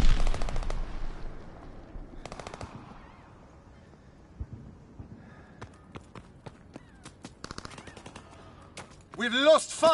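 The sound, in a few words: fighter plane strafing gunfire in Call of Duty WWII video game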